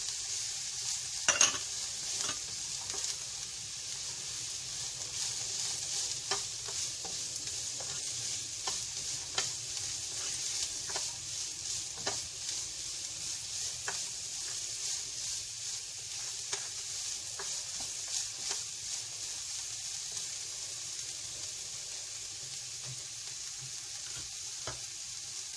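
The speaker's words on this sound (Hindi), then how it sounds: "तेज आंच पे ही हमें सब्जियों को सौते करना है" Carrots, cabbage and other vegetables sautéing in a pan over high flame for vegetable soup, a steady loud sizzle throughout with repeated spatula stirs and scrapes ticking against the pan.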